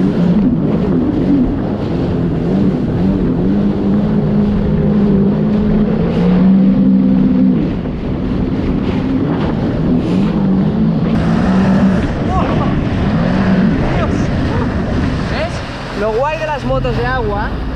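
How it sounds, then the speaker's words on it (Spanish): A jet ski runs fast across the sea off Menorca, its engine droning steadily under wind rush, with voices heard over it. "Lo guapo de las motos de agua es que cuando vas rápido por el mar"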